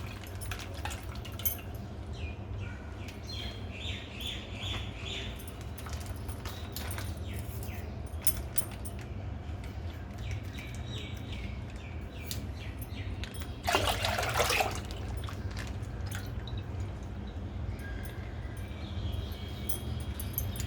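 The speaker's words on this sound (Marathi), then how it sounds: "आपण आता हे एक लिटर दूध ओतून घेऊया" A litre of milk trickles and splashes steadily into a metal pot, with occasional clinks of utensils and a brief louder gush midway.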